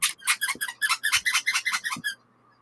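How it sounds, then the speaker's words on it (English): A squeaker inside a plush dog toy sounds in a quick run of about fourteen sharp squeaks, rhythmic and close, with faint handling noise underneath and no talking. "Oh, actually, this has a squeaker in it."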